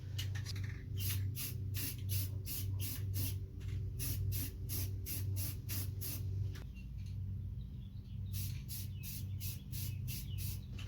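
A spray gun lays a gloss coat onto car wheels in a rapid series of short, sharp hissing bursts. A brief pause interrupts them before the quick, even passes resume.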